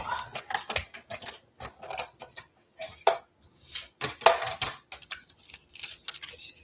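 A hand-cranked die-cutting machine feeding a piece of cardstock through its rollers, giving close, irregular ratcheting clicks and mechanical grinding in uneven bursts, with no voice over it.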